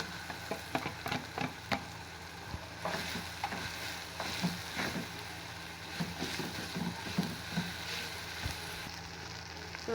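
Potatoes tossed and cooked in a pan for bread potato rolls, with steady sizzling and repeated scraping and stirring clicks of a spoon against the pan, close and moderately loud, no voices.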